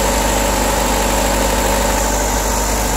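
A Honda Civic with a turbocharged D16 engine idles steadily and loudly close by, a continuous low mechanical hum with a faint vibration throughout.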